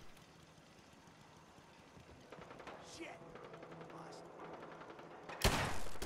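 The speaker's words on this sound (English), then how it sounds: "I hear a turret." Turret gunfire in Fallout 4 survival mode: faint distant shots early on, then a loud close burst of gunfire near the end.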